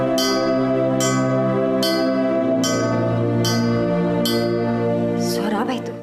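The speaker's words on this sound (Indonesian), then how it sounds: "Kenapa tiba-tiba suara lonceng berbunyi?" A bell rings in regular strokes, about once per second, loud and close, with a sustained tone under the strikes before voices break in near the end.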